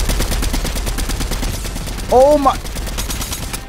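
Rapid automatic gunfire from a weapon in a Chapter 3 arena shooter match rattles continuously in fast bursts, with a player's brief exclamation heard over it.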